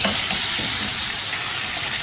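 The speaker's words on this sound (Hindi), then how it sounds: "1 किलो में इसमें शामिल कर रही हूँ दुम्बे का गोश्त। अब इसको इतनी देर तक पकाएंगे" Dumba lamb meat fries in a karahi with a dense, steady sizzle and crackle that stays close and loud throughout, with no voices.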